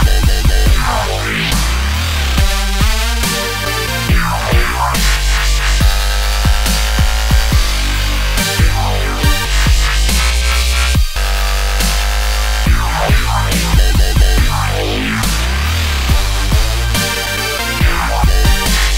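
Heavy dubstep track packed with progressively wilder synth sounds: dense, loud and continuous, with a pounding low end, wobbling buzzy bass and sweeping, glitchy effects throughout.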